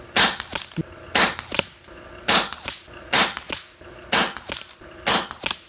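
Repeated shots from an FX Wildcat air rifle firing 18 grain pellets at a 100-yard target, each a sharp close crack with a quick echo, in irregular pairs and groups of about a dozen across the clip.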